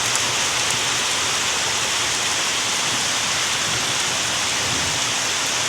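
Heavy rain pouring down hard, a dense continuous roar of drops on surfaces with no voices.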